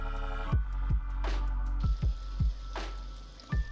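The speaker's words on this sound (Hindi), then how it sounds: "जब हम इन्हें हल्की और स्लो हीट में बनाते हैं जब भी ये खस्ता बनते हैं।" Potato mini samosas fry slowly in oil over low heat, giving a soft bubbling sizzle broken by several distinct popping plops at irregular intervals, close and unaccompanied by speech.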